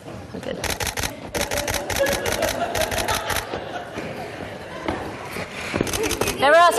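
Rapid bursts of camera shutter clicks firing in quick succession during a photo shoot of dancers while the camera is tethered, loud and close, with brief pauses between bursts and talk in the background.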